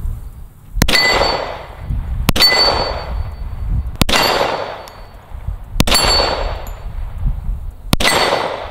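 Five .45 pistol shots strike a steel target, each a sharp crack followed by a ringing metallic clang that decays, spaced about one and a half to two seconds apart, loud and close.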